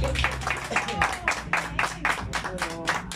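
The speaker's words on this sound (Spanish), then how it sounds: "Y el aplauso bonito de César" Audience clapping at a birthday mariachi performance, a steady wash of hand claps with rhythmic pulses, heard beneath music and voices.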